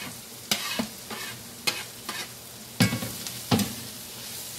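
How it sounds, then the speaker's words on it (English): Vegetables and steak for Philly cheesesteak stirred together in a hot pan, with a few scraping stirs breaking a steady background sizzle. "so now I'm going to go ahead and add my vegetables back in here"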